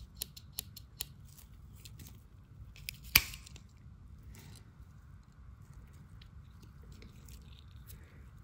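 Quiet, close clicks and snips of the small folding scissors on a 91mm Victorinox pocketknife opening and closing, with one sharper snap partway through and faint background hiss.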